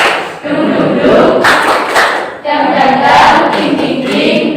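A group performs the tepuk semangat clapping chant, with loud, close claps and thumps mixed with voices chanting rhythmically in unison.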